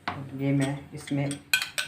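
Metal spoon clinking and scraping against a pot while hot and sour chicken soup with mushrooms and green onions is stirred, a few close, loud rings and taps with no talking.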